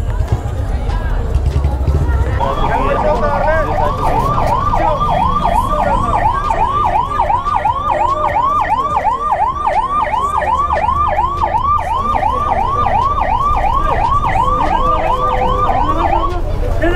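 A police siren wails in a fast, repeating up-and-down cycle at a motorbike meet-up crowded with riders, loud and steady for about fifteen seconds over crowd noise and engine rumble, with people talking throughout.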